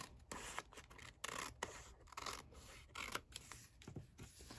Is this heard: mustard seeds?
no